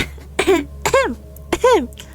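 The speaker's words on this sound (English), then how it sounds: "you hear a soft cough, you know, like the umbrage cough" Three soft, close coughs, evenly spaced, each a short throaty burst with a brief voiced tail, set in an audio drama scene against a quiet room tone.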